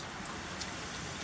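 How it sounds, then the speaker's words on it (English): Steady rain falling and dripping outdoors, a dense, even patter of drops on surfaces close by with no voices. "There's water dripping because it's raining out."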